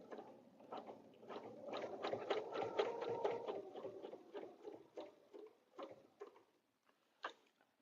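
A sewing machine quilts a quarter-inch line on a quilted table runner, its needle tapping in quick, even bursts that come close and faint, pausing briefly before a final short run.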